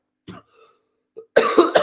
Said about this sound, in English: Oh, God, I'm coughing so much.